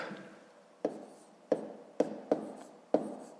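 Pen or chalk strokes write numbers by hand for a subtraction problem, five sharp tapping marks spaced irregularly, close and clear with no talk.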